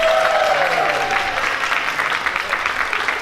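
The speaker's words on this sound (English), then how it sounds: "Third judge Melanie, round of applause." Applause from the crowd at a Morris dance jig competition greets the third judge, steady clapping of moderate loudness that continues throughout, with a voice briefly audible underneath at the start.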